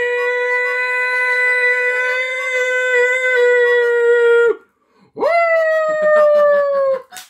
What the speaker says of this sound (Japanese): うちのワンコが、ひょどってるわ。 遠吠え初めて聞いたじゃん。